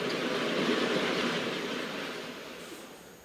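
An ICE train arriving at Mainz Hauptbahnhof, a steady broadband rumble of the moving train that slowly fades as it slows, with no voices.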